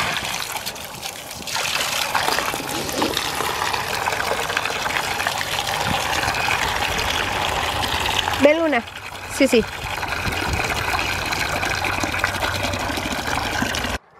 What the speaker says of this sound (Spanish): Ahí les puse agua fría.